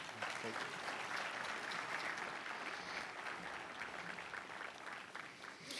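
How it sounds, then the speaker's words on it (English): A crowd at a university grand opening gives a dean a round of applause, a continuous, fairly faint patter of many hands with some voices mixed in. "please give him another round of applause"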